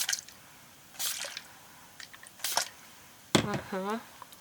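Small drips of water falling onto wet paint on a mixed-media door canvas, a few soft separate splashes with gaps between them, and a voice speaking near the end.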